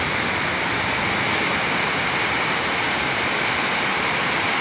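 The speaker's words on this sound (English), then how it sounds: "I have waterfalls coming down" Heavy rain and water pouring down like waterfalls off a porch roof during a storm with flooding, a loud, dense, unbroken roar with no voices.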